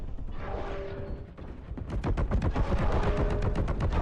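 A new gun in Warhammer 40K: Boltgun fires rapid bursts. A brief mechanical whir comes first, then dense, continuous shots with booms that build to a loud, steady barrage, and no talk.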